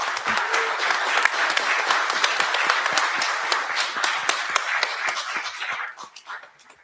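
An audience at a live political forum for Manchester alderman candidates gives a round of applause, a dense crackle of many hands that holds steady for several seconds, then thins out and stops.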